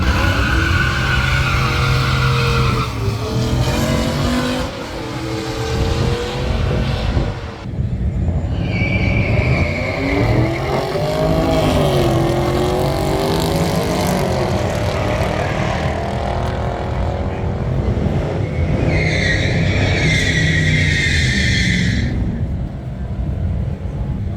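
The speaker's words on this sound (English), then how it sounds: "there was still drag racing going on, so we were able to go ahead and watch some of that" Drag racing cars at a Power Tour stop, engines roaring loud and continuous with revving pitch sweeps and high whines, near and sustained throughout.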